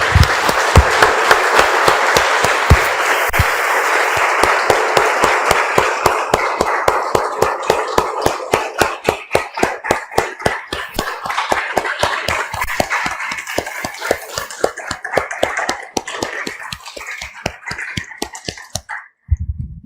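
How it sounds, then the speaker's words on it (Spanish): A church congregation applauds, starting as a dense mass of clapping that gradually settles into loud, steady, rhythmic unison claps before stopping abruptly. "Damos un aplauso, hermanos,"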